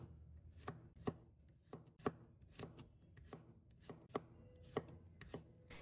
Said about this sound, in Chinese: 将大蒜切成片